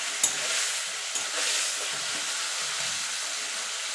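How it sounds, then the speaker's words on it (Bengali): Taro leaf curry with hilsa fish head, salt and turmeric, being stirred in a pan under a loud, steady hissing sizzle, with two brief scraping knocks near the start. "এবার ভালো করে নেড়ে নেব।"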